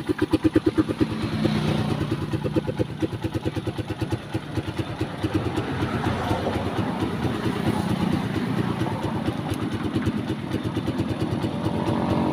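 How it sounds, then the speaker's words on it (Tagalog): A small motorcycle engine runs steadily nearby with its battery removed, its rapid even putter continuous throughout, with no talking. "ngayon ay sample yan na umaandar yung motor natin kahit walang battery"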